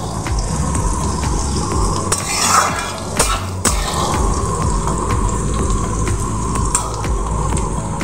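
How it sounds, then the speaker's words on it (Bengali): Chopped onions fry in hot oil in a pan, a steady loud sizzle over several seconds with a few louder scrapes and clinks of a utensil stirring. No one speaks. "পেঁয়াজটাকে আমি খুব ভালো করে ভেজে নেব।"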